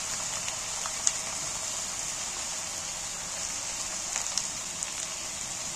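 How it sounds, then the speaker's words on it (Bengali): Two spoons of hot oil hold ground chilli paste that hisses in a steady, bright sizzle throughout. A few faint pops break through now and then. "এখানে আমি লঙ্কা বেটে রেখেছি বাটা লঙ্কা দু চামচ তেলে দিচ্ছি"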